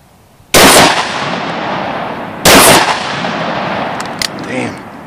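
Two loud, close blasts from a 12 gauge sawed-off coach shotgun firing slugs at an outdoor range, about two seconds apart, each followed by a long ringing echo, with a brief click near the end.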